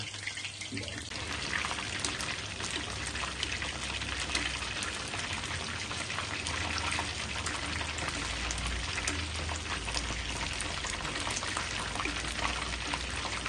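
Chicken wings deep frying in hot oil for hot garlic wings, a steady dense sizzle and crackle that is continuous and fairly close, with no talking.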